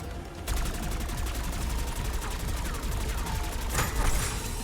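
Model L assault rifle firing in Black Ops 6 Zombies, a sustained rapid-fire burst of evenly spaced shots, loud and close over continuous game noise.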